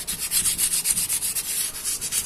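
Steady back-and-forth scraping of 360-grit sandpaper on metal, rhythmic quick strokes, close and fairly loud with no talking.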